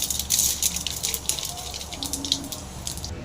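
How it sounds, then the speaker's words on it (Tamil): Mustard seeds sizzle and crackle in hot oil as they are tipped into a pan for a Tamil Manila tamarind and chilli egg dish, a close, bright spitting hiss with scattered pops and no speech. "இப்போ நம்ம கடுகு சேர்த்துடலாம்."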